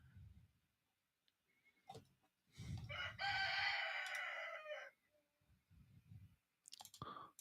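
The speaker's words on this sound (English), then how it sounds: "Stupid rooster." A rooster crows once at moderate distance, a long drawn-out call in the middle of the clip, with scattered clicks and low thumps around it and a brief voice near the end.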